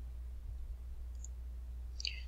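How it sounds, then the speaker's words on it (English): A mouse clicks on a tab in a Banner 9 self-service registration page, a faint short click then a sharper double click near the end over a low steady hum. "you may do so by clicking on the Enter CRNs tab."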